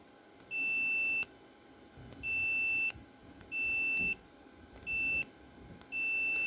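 Pushing a cam follower sets off a series of high-pitched electronic beeps, five steady tones each lasting under a second with short gaps, fairly faint over a quiet room background.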